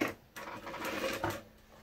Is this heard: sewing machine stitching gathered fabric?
yes